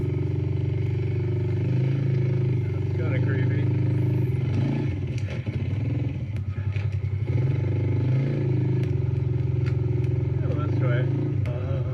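A motorcycle engine drones steadily up close throughout, with a low rumbling roar and occasional clatter as it rides along a path; people talk over it in the middle.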